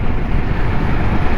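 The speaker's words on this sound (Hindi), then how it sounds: "हवा बहुत तेज़ चल रही है" Strong wind buffets the microphone while riding a Kawasaki Ninja 650 motorcycle, a loud, constant low rumbling rush with no voices.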